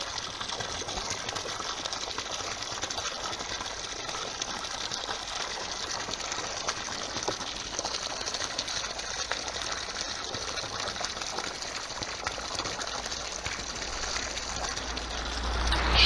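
An MP50-M3 propeller pump pushing water into a tub, a dense steady rushing hiss of flowing water over a constant motor drone that holds even for the whole stretch, swelling slightly at the end.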